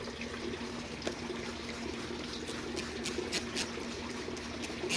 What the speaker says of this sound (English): I'm going to spray this just a regular plain water.